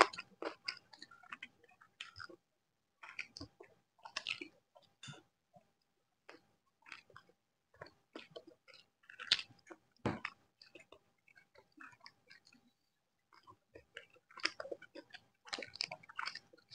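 Close-up chewing and crunching of chicken idli during an eating challenge, with a steady run of bites and munches spread through the whole stretch, mostly without talk.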